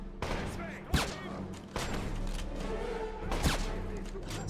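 Gunfire in the 2009 PC game Wolfenstein: a few sharp shots ring out over a dense, busy game soundscape with a steady low rumble, the loudest bursts near the start and middle.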